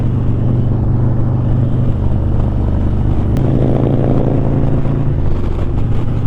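Harley-Davidson motorcycles with 124 engines, alongside M8 and twin cam bikes, ride together on the road, their steady engine drone mixed with wind noise across the whole stretch and no talking.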